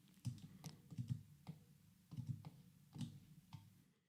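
Keyboard shortcut keys are pressed in Pro Tools as a quiet series of crisp, close clicks and taps, landing singly and in quick pairs with short pauses between them.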